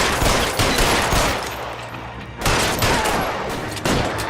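A loud, dense barrage of gunfire from LA Noire fills the whole stretch, easing briefly before fresh bursts kick back in.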